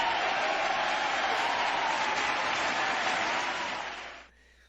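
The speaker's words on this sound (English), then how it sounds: "Let's give a clap for all the people in chat." Steady applause from a group, dense continuous clapping at close range lasting about four seconds before cutting off abruptly into near silence.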